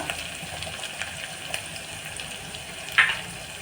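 Spinach sautéing with turmeric and onion-garlic masala for palak gargatta gives a faint, steady sizzle with occasional soft clicks from the pan and one brief louder hiss near the end.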